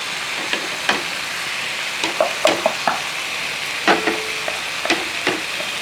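Spice powders being stirred into cooked tomatoes in a frying pan: a continuous crackling sizzle broken by repeated sharp scrapes and taps of a spoon against the pan, close and fairly loud, no voices.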